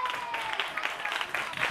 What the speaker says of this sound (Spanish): un aplauso para todos los demás